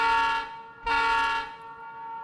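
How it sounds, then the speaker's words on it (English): Train horn in the video game Escape from Tarkov, two long sustained blasts with a brief dip between them, loud and close, with no talking over it. "Hopefully we can shoot through this train."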